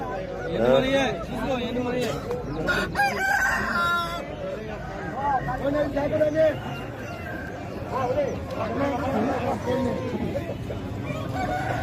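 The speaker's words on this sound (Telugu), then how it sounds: "కోళ్ళు అయితే చాలానే ఉన్నాయి" Native country chickens cluck and squawk all around while a rooster crows, with people talking in a busy, crowded weekly poultry market at Nallapadu.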